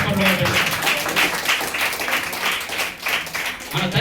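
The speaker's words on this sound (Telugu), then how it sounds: "చప్పట్లు కొట్టి ప్రభు నామమున బలముగా చప్పట్లు కొట్టండి" Church congregation clapping in praise during a Telugu prayer service, steady rhythmic claps from many hands throughout, mixed with a voice speaking over them.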